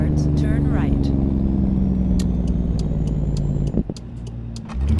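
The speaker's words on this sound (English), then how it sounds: "Really nice roll off there of the bass of the exhaust and then the sound of the turbos being separate." A video game sound mod of a CAT C15 engine in a W900 truck delivers a deep, steady exhaust rumble with turbo whine layered on top. A spoken navigation prompt cuts in briefly near the end.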